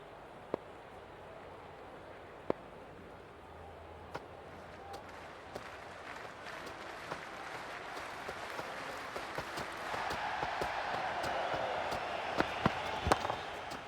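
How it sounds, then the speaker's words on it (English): A T20 World Cup cricket crowd at India versus South Africa makes a steady distant roar, with applause and cheering that swell toward the end and scattered sharp claps over the noise. "The crowd are making a heck of a lot of noise even before the first ball's been bowled."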